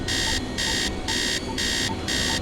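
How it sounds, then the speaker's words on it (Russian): Pedestrian crossing signal at a traffic light beeping in a steady repeating pattern, five bright bursts about half a second each separated by short gaps, over low street rumble. "Вы слышите сигнал светофора?"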